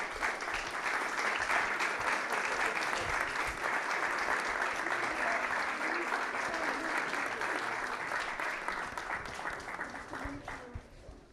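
A sustained round of applause at a White House poetry student workshop, broad and even clapping from a large audience that holds steady and then slowly fades toward the end.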